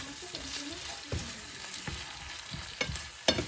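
Potatoes frying in a pan at breakfast give a steady close sizzle, with occasional clicks and scrapes of stirring throughout.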